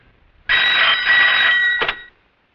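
A telephone rings at a police station in a 1994 Hindi film scene: one loud, close bell burst of about a second and a half, with a short second trill just after, then silence and no voices.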